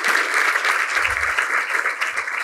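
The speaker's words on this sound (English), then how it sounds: "Give him a round of applause, please." An audience at a Chicago mayoral campaign event for Paul Vallas breaks into sustained, dense applause, steady and fairly loud across the whole moment, with a few low thumps underneath.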